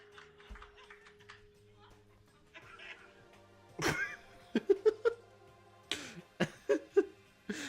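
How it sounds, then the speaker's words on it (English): A cough sound effect from the Danganronpa video game, a few sharp bursts near the end following quieter sounds, moderately loud. "I never heard that cough at the end before."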